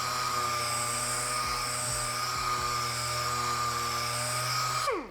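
A plastic fender is sanded with 600 grit sandpaper as part of restoring it. A steady, loud motorized whine drones continuously with slight pitch shifts and winds down abruptly at the end.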